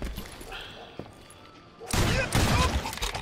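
Gunfire in the Call of Juarez Gunslinger video game: after a quiet stretch with a faint thump, a sudden loud burst of overlapping shots erupts near the end, with speech heard alongside.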